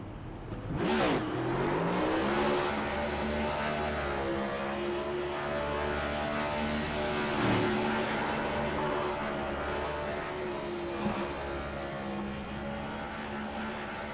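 Race car engine sweeping past at the start-finish line of an ICON Cup Series race at Charlotte, a loud sustained roar with shifting pitch and a burst as the car passes close, with more engine drone continuing behind.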